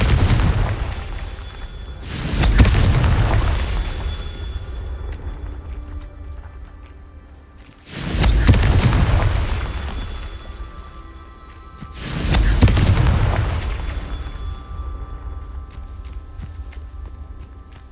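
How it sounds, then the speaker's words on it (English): Confringo spell explosions in the Hogwarts Legacy video game: three loud, heavy booms roughly five seconds apart, each bursting suddenly and then fading into a long, low rumbling decay. "Let's see what's up your sleeve this time, Merlin. Confringo!"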